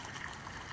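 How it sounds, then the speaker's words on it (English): Water pours steadily into a planting hole dug for a native plant, a brief, soft, continuous splashing gush with no other sounds. "Just take and fill it up with water"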